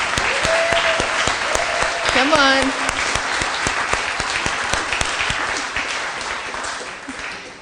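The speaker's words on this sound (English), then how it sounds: "we have to give him seated applause" Steady applause from a seated audience at a Sunday gathering, clapping densely throughout, with a few voices calling out over it.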